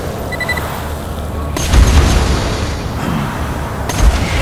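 Gunfire in the video game Borderlands 2 comes as two deep, booming shots, one early and one near the end, over a continuous rumble of game noise.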